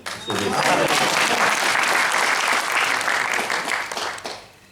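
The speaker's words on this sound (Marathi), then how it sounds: "तुमच्या या सगळ्या टाळ्या" A live audience breaks into loud, sustained applause that swells quickly, holds steady for several seconds and then fades away at the end.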